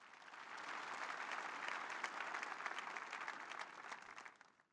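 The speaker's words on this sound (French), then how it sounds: "Applaudissons pour Jésus." A church congregation applauds during an evangelistic sermon, a sustained wash of clapping that swells, holds steady and then fades away, heard faintly and without speech.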